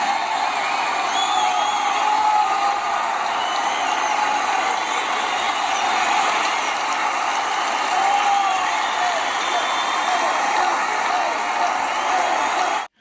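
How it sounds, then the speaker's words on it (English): Loud, dense crowd roar with cheering and whoops played from an iPad speaker, steady and continuous throughout, with a rattling mechanical texture mixed in, cutting off abruptly at the end. "how loud the iPad was displaying that crowd noise"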